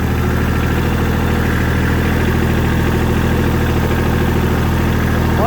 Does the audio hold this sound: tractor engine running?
yes